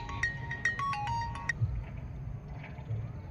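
A phone ringtone plays a short electronic melody of bright tones for about a second and a half, then stops, leaving low background hum.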